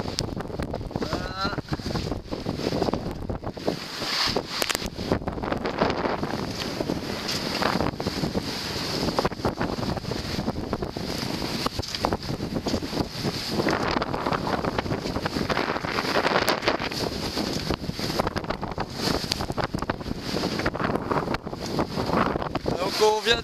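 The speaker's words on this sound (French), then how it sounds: "on prend des grosses vagues" At sea during a squall, a sailboat rides big waves while strong wind buffets the microphone and steady water noise continues throughout. A voice is heard faintly at times.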